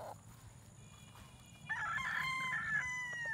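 A gamecock crows loudly and close by, one long drawn-out call rising over a quiet farmyard background.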